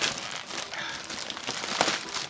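Sneaker packaging being torn and ripped open, with a continuous dense crinkling and tearing of paper or plastic for a couple of seconds, close up and fairly loud.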